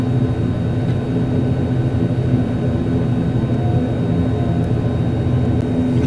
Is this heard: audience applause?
no